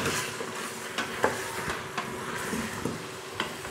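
Three large potatoes are stirred into a spicy dhaba-style chicken curry in a pan, with a soft sizzle under repeated spoon scrapes and knocks against the pot at an irregular pace.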